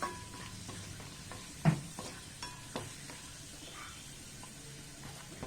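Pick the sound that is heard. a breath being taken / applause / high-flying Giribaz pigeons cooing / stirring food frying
stirring food frying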